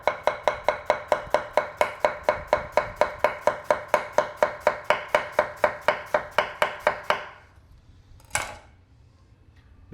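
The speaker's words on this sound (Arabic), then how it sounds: "وهلا بصير فينا نفرم. انا بفضل انه الملفوف يكون كتير ناعم" Cabbage finely shredded with a knife on a board for a Lebanese burger, a fast, steady run of close, crisp chops for about seven seconds, then quiet broken by one last sharp knock.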